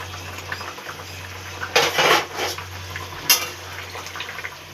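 Eggs drop into a pot of egg curry with boiled potatoes, making two short clattering splashes a moment apart over a low background hum in a home kitchen.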